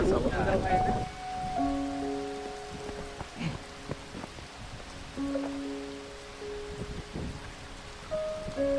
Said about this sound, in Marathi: अचानक पाऊस चालू झालेला इथे